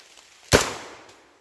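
A single sharp shotgun blast from a PSA JTS shotgun, loud and close, with a decaying tail and no talk.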